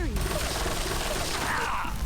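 Continuous dense gunfire from a boss in a video game, a steady rattling barrage at moderate level filling the whole stretch, partly mixed with background talk.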